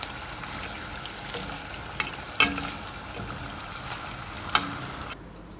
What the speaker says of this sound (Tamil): மோர் மிளகா பொரிச்சு எடுத்துக்கலாம்.